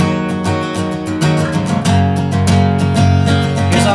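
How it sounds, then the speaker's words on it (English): Guitar strums two shapes back and forth in a steady rhythm, alternating minor and major third intervals, bright and close, with no talking. "So just to go back and forth between those two, it sounds like this."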